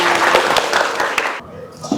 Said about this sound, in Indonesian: Tepuk 1, tepuk 2, tepuk tangan buat kalian semuanya.